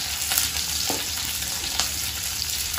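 Onions stir-frying in a pan for chilli paneer sizzle steadily, joined by a few light scrapes and clinks of the spatula against the pan, moderately close, with no talk.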